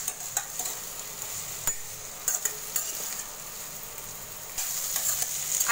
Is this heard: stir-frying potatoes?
yes